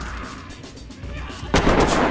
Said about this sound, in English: Is that you guys shooting at us?